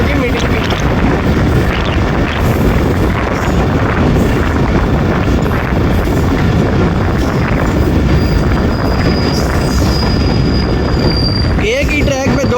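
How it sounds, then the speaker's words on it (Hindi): A goods train runs along the railway track with a second train following behind, giving a steady, loud broadband rumble and rattle throughout with wind buffeting the microphone. "एक ही ट्रैक पे दो ट्रेन, एक गुड्स ट्रेन"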